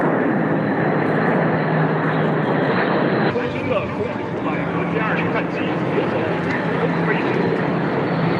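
Chinese J-20 fighter jets pass overhead in formation at an airshow, a loud, steady broadband jet roar that shifts in tone partway through, with talk underneath.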